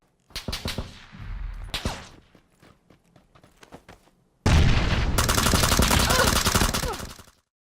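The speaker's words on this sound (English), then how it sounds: "Bullets passing close to the player will generate a crack sound. The ones passing further away will only generate a whiz effect." Gunfire in PlayerUnknown's Battlegrounds: a few sharp cracks and single shots with scattered footstep-like ticks, then a loud sustained burst of rapid automatic fire with bullet cracks and whizzes.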